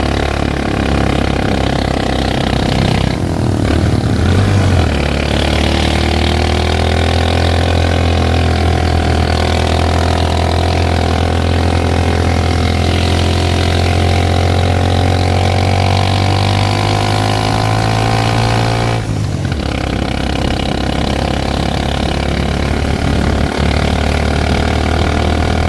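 Motorized tricycles driving in a Three Kings Santo Niño street procession in Ternate, Cavite, with a loud, continuous motorcycle-engine drone that shifts pitch as they accelerate and ease off, close by, with no talk.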